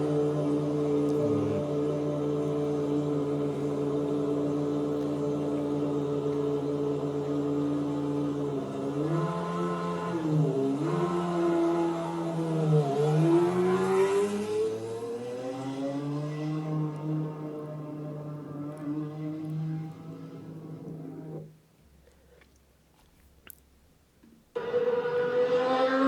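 A historic Formula 1 car engine drones steadily, its pitch swinging up and down through several revs, then cuts off abruptly before a brief burst returns.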